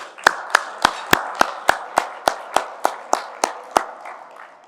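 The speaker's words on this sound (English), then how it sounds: "If we give them a round of applause for their music tonight." At a veterans' award gala, hands clap for a university jazz ensemble in about a dozen sharp, evenly spaced claps, close and distinct, with a faint room echo after each.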